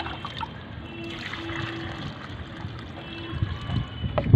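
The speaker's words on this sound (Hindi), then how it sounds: "अब हम इसमें पानी डाल देते हैं।" Water poured into a mix of sand and cement for mortar, a steady low gurgling trickle with a faint background hum, building slightly louder toward the end, with no talking.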